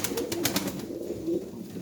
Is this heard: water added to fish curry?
no